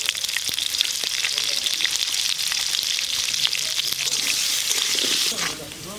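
Potatoes frying in a pan with a steady, bright sizzle that runs almost the whole time before easing off near the end.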